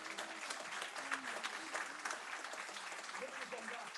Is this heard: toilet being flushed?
no